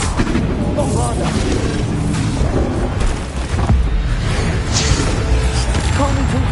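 A Bombarda blasting spell bursts in Hogwarts Legacy, a loud, dense booming explosion that rumbles on continuously, with a voice speaking over it.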